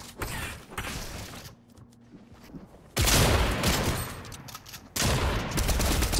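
Dense bursts of rapid Fortnite gunfire, loud and close, with a quieter stretch of softer shots and clatter before the firing surges again.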